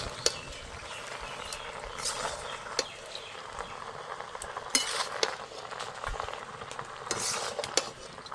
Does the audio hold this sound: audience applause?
no